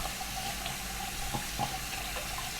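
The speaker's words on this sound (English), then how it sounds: "Probably should have turned the water on before." Tap water runs steadily into a sink for rinsing hands, a continuous close hiss and splash with small irregular spatters.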